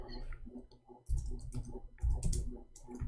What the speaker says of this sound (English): We are typing in English, hold on.